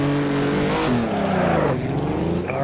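A Jaguar C-Type engine racing around the Feldbergring in Assetto Corsa, a loud, close, steady roar that rises and falls in pitch through gear changes and throttle shifts, with no talk over it.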